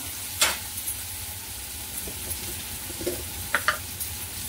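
Whole and ground spices frying in a pan of oil for cashew masala: a soft, steady sizzle with a few sharp stirring clicks, fairly quiet and close, with no voices.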